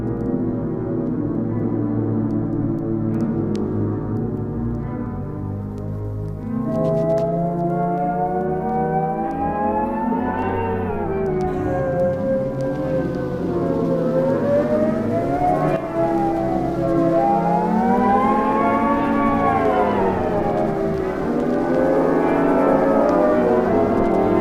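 Early electronic music composition by a pioneering female electronic composer, played as a recording: sustained, wavering synthetic tones slide and bend in pitch over a steady drone, siren-like and continuous with no voices.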